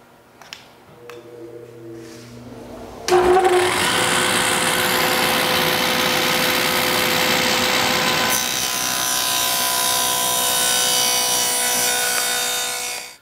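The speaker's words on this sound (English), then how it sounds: "I'm just gonna go ahead and cut that groove in the tops of both side pieces" A dado stack on a table saw cutting a groove into the tops of plywood side pieces: a click, then a loud, steady, close whirring cut that holds for about ten seconds before winding down, with no speech.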